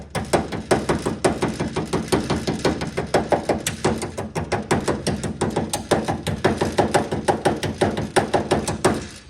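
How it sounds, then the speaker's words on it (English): Rapid, steady metallic tapping of a body hammer on a 1974 Chevrolet Caprice convertible body panel with body filler, many close, even strikes in a continuous rhythm with no talking. "just get your body hammer"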